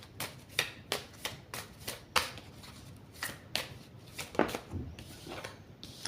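A deck of cards is shuffled by hand in a series of crisp riffling bursts, each a quick papery flutter followed by a brief pause, close and clear with no talking.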